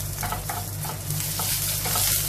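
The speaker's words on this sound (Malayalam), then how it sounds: "നന്നായിട്ട് ഇളക്കി കൊടുക്കാം." Three dried red chillies and curry leaves sizzle in hot oil as the tempering for a pumpkin erissery. The frying is continuous, and the spoon stirs and scrapes through it at a steady, close distance.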